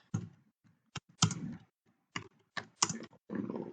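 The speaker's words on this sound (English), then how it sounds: "I think I typed that right" Bursts of computer keyboard typing, close and crisp, in quick irregular clusters of keystrokes separated by short pauses.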